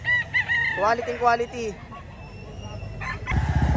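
A four-year-old white gamecock crows loudly at close range in a single drawn-out call at a market for fighting birds, with someone talking over the start and a short burst of noise at the end.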